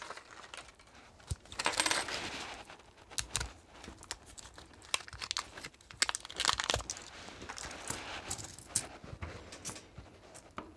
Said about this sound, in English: Very tarnished coins here.